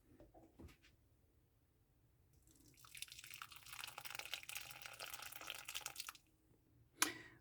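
Whey drains from homemade cheese made from soured milk in a camper kitchen. Faint isolated drips give way to a soft, steady trickle lasting several seconds, then a sharp knock near the end.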